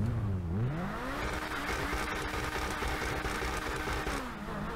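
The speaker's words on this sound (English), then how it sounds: "It's got a gruffer sound." An Emerus car in a video game revs with a deep, gruff engine note, the pitch dipping then climbing and holding steady before falling again, a continuous throaty drone heard alone.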